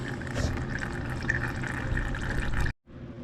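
Motor oil draining out of a Honda CRF 230L dirt bike during an oil change, a steady close liquid trickle and splash that cuts off abruptly near the end, with no talking.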